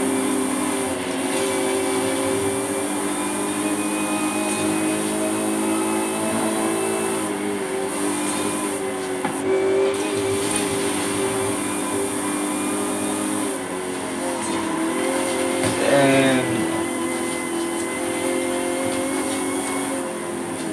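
The Warthog vehicle drives in Forza Horizon 5, its engine a steady, loud drone that runs the whole time. A brief swell rises near the end, and no one talks over it.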